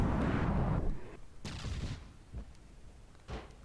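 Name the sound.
incoming missiles exploding in video game battle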